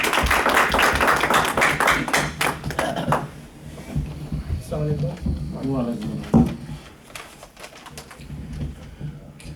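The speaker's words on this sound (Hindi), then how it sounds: "तालियां प्लीज इनके लिए।" An audience at an Urdu poetry mushaira in Saskatoon, Canada claps in a quick, fairly loud flurry for about three seconds. The clapping thins out under a man's speech.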